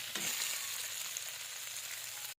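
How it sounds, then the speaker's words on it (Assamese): Chicken and potatoes sizzle steadily as they fry in a pan, a continuous close, even crackle that runs unbroken for the whole stretch before cutting off abruptly. "তাৰপিছত আকৌ অকণমান এনেদৰে অকণমান ভাজি ল'ম"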